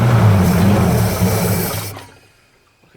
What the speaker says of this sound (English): Okay, it stalled the engine.